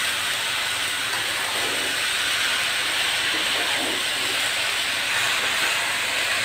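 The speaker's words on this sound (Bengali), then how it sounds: "শাকটা দিয়ে দিয়ে এখন নেড়ে চেড়ে দিব।" Leafy greens sizzling in a hot pan while being stirred, a loud continuous broadband hiss that stays steady throughout, close up with no talking.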